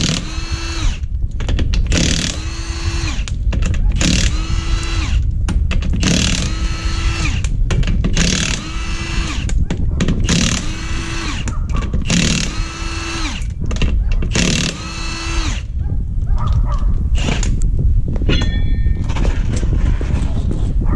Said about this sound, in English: You need a 21mm socket to take the lug nuts off.